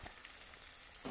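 Meat and potatoes with spices frying in hot oil give a faint, steady sizzle with a few soft clicks and a brief stir of the pan near the end.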